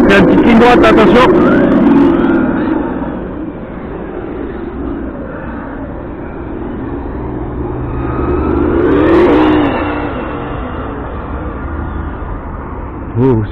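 A Hobao Hyper GT-B 6S RC car with a Mamba Monster X system and an engine sound module speeds down a straight, its loud simulated engine roaring and revving up, then rising again before easing off.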